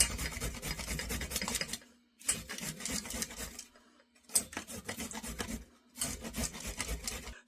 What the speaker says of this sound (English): This grater is amazing.